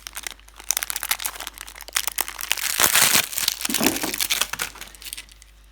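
A plastic packet of small crystal-shaped beads crinkles and rustles up close, with a dense burst of crackling handling in the middle.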